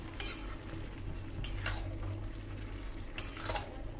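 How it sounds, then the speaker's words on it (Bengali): Fried prawns being stirred into bottle gourd in a pan for a Bengali prawn curry, three distinct bursts of utensil scraping against the pan over a soft sizzle, close and fairly quiet. "ভেজে রাখা চিংড়ি মাছটা দেব, দিয়ে এবার এটাকে ভালো করে মিশিয়ে নেব"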